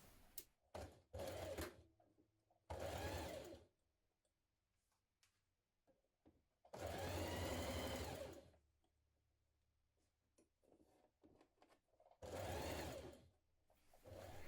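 A sewing machine stitches a kaftan dress seam in three loud, sustained bursts of rapid whirring, separated by quiet pauses filled with faint clicks and handling of fabric.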